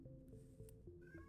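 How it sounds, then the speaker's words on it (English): A cat meows and yowls in the background, its agitated cries faint and distant under a steady low hum and game sounds. "my cat is kind of freaking out in the background."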